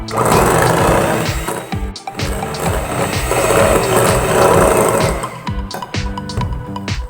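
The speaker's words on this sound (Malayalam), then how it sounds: "ലോ സ്പീഡിലിട്ട് ബീറ്റ് ചെയ്യണം സൺഫ്ലവർ ഓയിൽ ചേർത്തതിന് ശേഷം കേട്ടോ." Electric beater running steadily on low speed, mixing cake batter with sunflower oil for a chocolate ganache cake; a loud continuous motor whir with rattling against the bowl, briefly pausing near the two-second mark and again toward the end.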